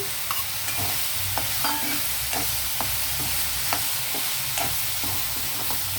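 Spring onions and mixed vegetables fry in a pan on low heat, a soft steady sizzle with repeated scraping and tapping of a spoon stirring at a regular pace, no speech.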